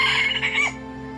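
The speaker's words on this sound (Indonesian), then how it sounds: "ayam hutan yang mampu berkokok sering" Wild jungle fowl in Kampar, Riau, gives a single short crow, a bright strained call that rises and trails off within about a second, close and clear over a faint steady hum.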